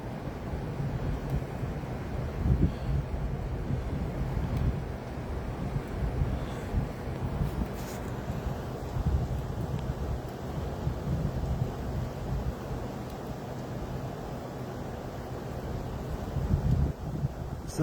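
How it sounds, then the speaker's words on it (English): Wind picks up as a thunderstorm approaches, gusting and buffeting the microphone in a steady, rough outdoor rush with a low rumble and no clear pauses. "the wind's starting to pick up"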